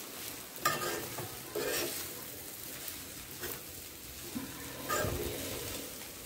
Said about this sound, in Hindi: अच्छे से मिक्स कर दिया।